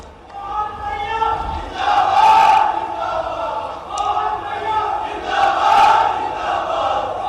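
A large crowd roars and cheers in rising and falling swells of massed voices to welcome the chief minister at a medical college land-worship ceremony in Betul.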